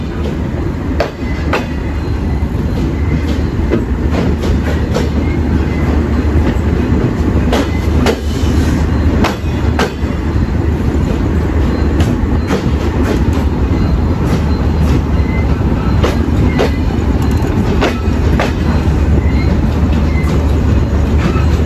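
The Shimanto Express rolls into Jessore Junction station at night with a loud, continuous rumble, rapid wheel clatter over rail joints, and occasional sharp clicks, heard close from on board with no voices.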